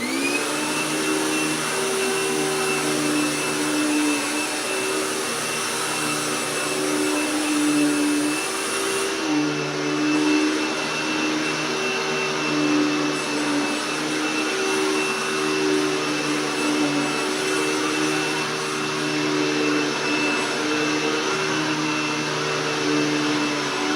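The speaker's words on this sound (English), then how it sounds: "the room I'm going to vacuum next" A Hoover Tempo Widepath upright vacuum cleaner runs steadily and loudly up close, its motor drone and whine holding constant throughout with no voices.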